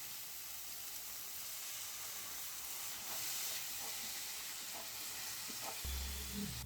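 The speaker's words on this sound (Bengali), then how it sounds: "মশলাটা ভালো করে কষিয়ে নেব।" Spice masala with turmeric and a little sugar sizzles steadily in oil for a small prawn curry, a continuous loud hiss with faint stirring scrapes and a brief clatter near the end.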